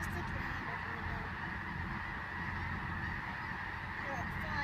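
A large flock of snow geese honk continuously in flight over a wheat field in Arkansas, a dense, loud overlapping chorus with a few voices talking in the background.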